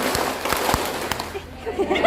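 A group claps in a classroom clapping game, giving a handful of sharp, separate claps over the first second while voices talk around them.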